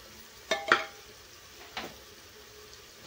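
Masala and tomatoes fry in a pan while a spoon stirs them, giving a low steady sizzle broken by a few sharp scraping strokes, close by and with no voice.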